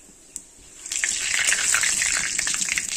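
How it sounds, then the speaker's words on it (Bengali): Two dried chillies and two bay leaves drop into hot oil, a brief tap followed by a loud, steady sizzling hiss that swells and holds close up, with no voices. "তো তেলটা গরম হয়ে গেছে, ফোড়নে দিলাম দুটো শুকনো লঙ্কা আর দুটো তেজপাতা"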